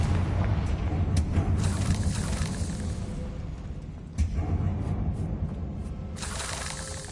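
A Confringo spell explodes in Hogwarts Legacy as a sharp blast over a constant rumbling game backdrop, with a few bright crackling bursts scattered throughout.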